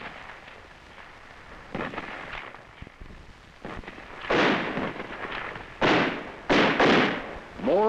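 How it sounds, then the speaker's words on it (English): Small arms and mortar fire during an ambush in Vietnam, 1963: sharp bursts and heavy booming blasts come in clusters, growing louder and denser toward the end, over a rough noisy background. "It was quickly met with small arms and mortar fire."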